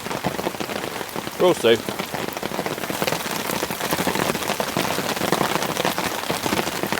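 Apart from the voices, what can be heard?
heavy rain on tarp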